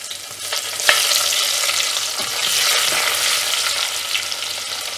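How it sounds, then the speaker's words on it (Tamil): Crushed garlic sautéing in oil with cumin and fenugreek in a clay pot for anchovy curry, a loud close sizzle that swells and eases, with one sharp stirring knock near the start and no speech. "பூண்டு தட்டி வச்சுருக்கிறத ஆட் பண்ணிட்டு"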